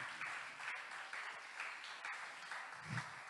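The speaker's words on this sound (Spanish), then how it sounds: "Denle un aplauso fuerte al Señor." A church congregation applauding during a Spanish-language sermon, steady clapping at a low level, faint and somewhat distant, with a brief low thump near the end.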